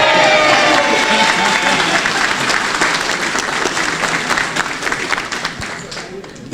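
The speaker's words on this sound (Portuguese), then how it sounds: "Aplausos!" Guests at a wedding vow renewal burst into loud, dense applause that fades gradually over several seconds, with crowd voices and some cheering mixed in.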